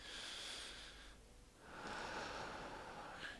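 Slow, deliberate breathing during a mindfulness exercise, a soft airy inhale, a brief pause, then a longer exhale, close to the microphone and quiet, with no talking.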